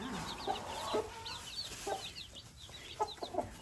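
Baby chicks tucked under a broody hen give soft, high chirps in quick clusters, with low hen clucks mixed in, faint and close.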